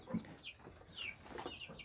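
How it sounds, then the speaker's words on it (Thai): Three-month-old free-range chickens on a poultry farm give short, scattered clucks and calls at close range, with no talk over them. "อันนี้คือไก่รุ่นสามเดือนแล้วนะครับ"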